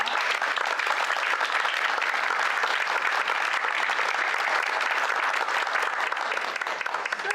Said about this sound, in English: Let's give the candidates a round of applause.